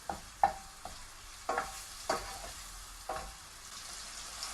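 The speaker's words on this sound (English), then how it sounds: "we're just going to cook this bacon down" Bacon sizzles and crackles in a pan over high heat while being stirred, with about six sharp scraping or stirring strokes at an irregular pace over a steady frying hiss, close up and with no talk.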